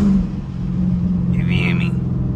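A Dodge Challenger R/T rumbles and revs from inside the cabin while driving in the rain at midnight, a loud low engine drone with a rising whine, while someone talks over it.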